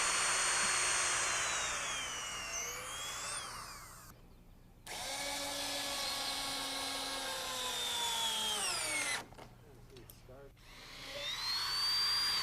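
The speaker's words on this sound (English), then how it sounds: "we drill pilot holes through the decking" Power drill boring pilot holes through wooden decking boards, two long whining bursts with rising and falling pitch separated by short pauses, close and loud, with brief talk in between.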